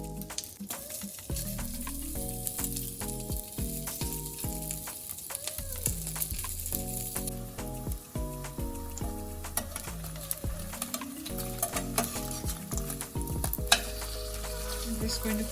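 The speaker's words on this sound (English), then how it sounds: "Now we are going to pan fry the char siu." Pork char siu pan-fries with a steady sizzle and occasional stirring scrapes, partly buried under continuous background music.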